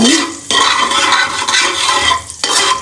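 Egg chilli being stirred in a hot pan, loud continuous scraping and sizzling close up, with a few brief pauses between strokes of the spoon.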